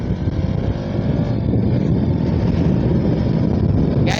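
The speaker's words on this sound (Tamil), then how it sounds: "ஒரு வண்டி கிராஸ் ஆச்சு" A BMW touring motorcycle passes by on the road, its engine roar steady and loud throughout, heard from a moving motorcycle with constant wind rumble.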